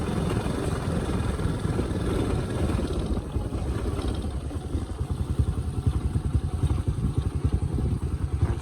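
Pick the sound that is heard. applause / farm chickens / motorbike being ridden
motorbike being ridden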